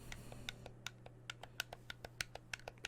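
Home button on a cheap plastic game controller pressed over and over, giving a steady run of small, sharp, close clicks with brief gaps between them, alone in a quiet room.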